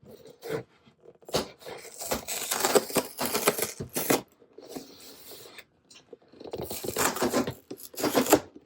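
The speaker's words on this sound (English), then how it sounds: "Tear the whole box apart, right?" A cardboard box is torn apart by hand in several bursts of ripping and scraping, close and loud, separated by short pauses.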